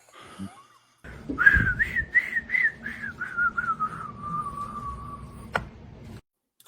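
A single person whistles "I Am the Very Model of a Modern Major-General" from Pirates of Penzance in a series of clear, steady notes, gliding down into one long held tone, with a sharp tick near the end.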